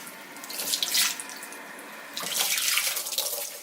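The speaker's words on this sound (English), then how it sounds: "So make sure that you wet your sponge." Water runs from a tap, splashing in two bursts as a sponge is held under the stream and wetted, close and fairly loud.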